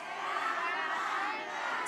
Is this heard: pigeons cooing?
no